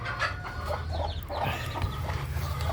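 Upgraded native chickens in a backyard poultry pen cluck steadily over a constant low hum, with several overlapping hens close by and no talking.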